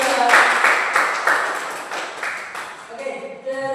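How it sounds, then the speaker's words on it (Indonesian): Audience applause after a group discussion presentation, bursts of clapping that fade and rise in uneven waves, with a voice speaking over the end. "Beri tepuk tangan semua juga."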